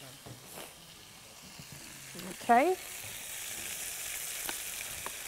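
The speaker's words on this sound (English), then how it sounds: "So we're going to be frying the plantain now." Plantain chunks frying in hot oil, a faint continuous sizzle and hiss running throughout, with a brief spoken word and a short squeal partway through.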